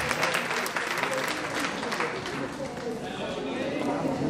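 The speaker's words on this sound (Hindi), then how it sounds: "प्लीज एक बार अपने लिए तालियां" An audience at a women's rights event in Haryana claps in a continuous, moderately loud round of applause, with voices mixed into the crowd noise throughout.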